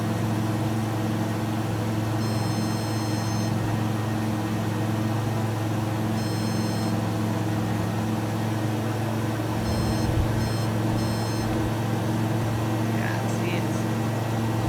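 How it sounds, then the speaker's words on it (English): Repeated warning beeps from an aircraft cockpit in Microsoft Flight Simulator, sounding in short clustered bursts over a steady engine and cabin hum, with speech faintly present. "Very aggressive in its beeping at me."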